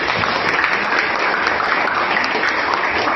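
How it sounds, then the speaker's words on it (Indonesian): Students in a classroom clap together at the end of a lesson, a continuous, evenly loud burst of group clapping that fills the room without pause. "Tepuk tangan buat kita semua."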